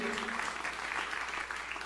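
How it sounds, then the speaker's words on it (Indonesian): Applause from a church congregation fills the space, a continuous, fairly quiet wash of clapping that carries on steadily without breaks. "Tepuk tangannya paling meriah."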